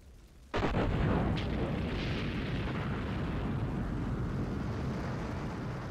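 A torpedoed ship breaking apart in a U-boat video game, opening with a sudden deep boom that swells into a loud, sustained rumbling roar with no fade.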